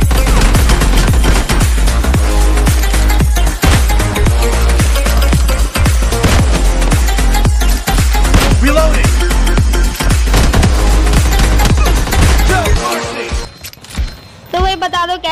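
Kar98 bolt-action rifle shots in a shooter video game ring out again and again amid dense, loud game action and gunfire, with a voice talking over it, before the sound thins out near the end.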